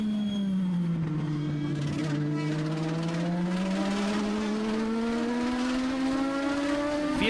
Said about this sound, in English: great racing action here in the VP Racing Fuel Legends car semi-pro rank